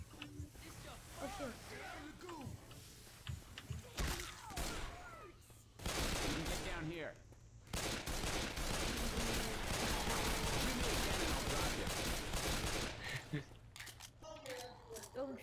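Rapid shotgun and gunfire blasts ring out in a video game set in an infected mall, loud clustered shots over continuous talk and chatter from players.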